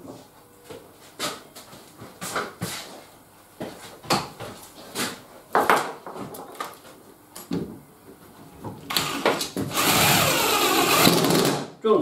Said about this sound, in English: Drill them straight into the wood.